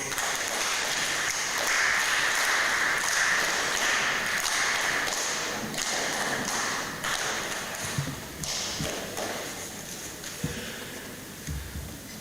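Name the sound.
council audience applause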